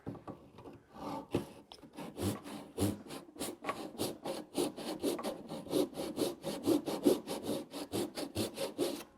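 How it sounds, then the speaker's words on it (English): Chisel cutting into wood while building a custom headboard, giving a long run of rapid, evenly spaced scraping strokes, loud and close, with a few sparser cuts at the start and no talking. "And now I can go in with a chisel."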